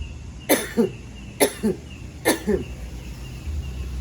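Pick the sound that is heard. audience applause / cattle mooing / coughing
coughing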